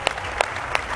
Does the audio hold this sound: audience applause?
yes